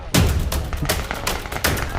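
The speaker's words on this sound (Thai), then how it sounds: "รอรับเสียงประทัด" A string of firecrackers bursts at a Qingming grave visit in a Nakhon Pathom cemetery: loud, close, rapid crackling pops in an uneven volley lasting the whole two seconds, with no talk.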